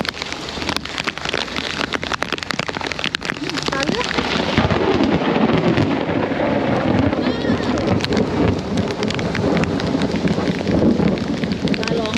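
Heavy rain during a journey in Laos: a dense, loud, steady downpour drums on surfaces, with low rumbling thunder.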